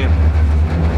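A sleeper-car train rolls along, heard from inside the cabin as a steady, loud low rumble with constant running noise and no talk.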